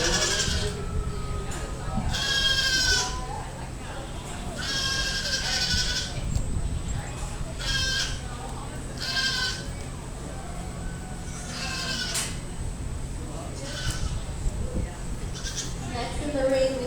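Pygmy and dairy goats at a county fair goat show, repeated loud bleats scattered across the clip amid crowd noise and an announcer speaking over a PA.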